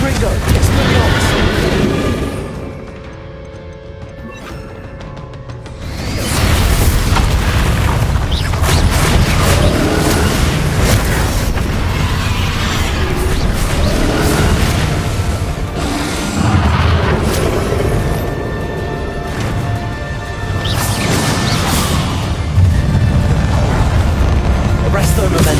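Confringo blasting spells go off in Hogwarts Legacy combat as a series of loud booming explosions and bursts, with short quieter gaps and game voices calling out spells over the blasts.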